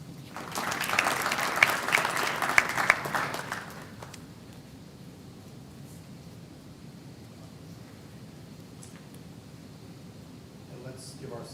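Business school commencement crowd bursts into loud applause with a few sharp individual claps, fading after about four seconds into a quiet, reverberant hall with faint scattered noises.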